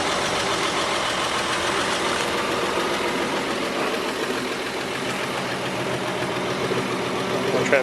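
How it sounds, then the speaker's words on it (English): The original six-cylinder engine of a 1951 Chevy truck idles close up with a loud, steady, rough mechanical rumble and faint knocking, running continuously with no talk. "Original 6-cylinder engine."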